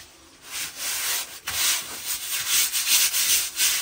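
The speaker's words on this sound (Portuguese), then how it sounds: "Pressiona e vai apertando. A massa vai espalhando atrás do isopor." Styrofoam sheeting is pushed hard into fresh mortar on a wall, giving a close, continuous gritty rubbing and scraping that swells and fades in quick strokes, with no voices.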